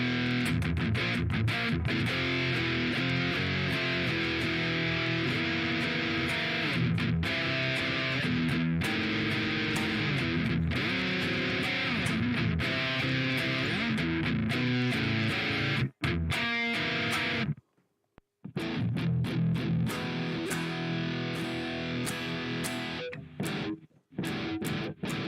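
A heavily distorted electric guitar, played through a metal amp tone in Logic Pro on an iPad, grinds out dense riffs with a few brief stops and cuts.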